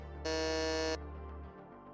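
A game show buzzer on a gaming trivia quiz between livestreamers sounds once, loud and steady for under a second, then cuts off sharply.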